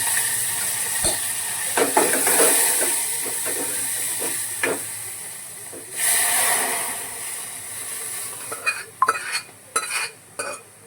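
Spiced tempering sizzles and hisses over cooked dal in a pressure cooker, swelling in loud bursts around a metal spoon stirring, then ending in several sharp utensil clinks.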